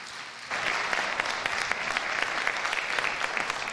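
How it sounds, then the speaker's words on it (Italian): After a brief quiet moment, an audience breaks into sustained applause, a steady, full wash of clapping that carries on to the end. "Un applauso a Michele Cucuzza."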